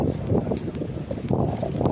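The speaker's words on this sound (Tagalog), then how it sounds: "Medyo mahangin. Mahangin ngayon." Gusty wind rumbles and flutters across the microphone outdoors, a continuous loud buffeting over about two seconds.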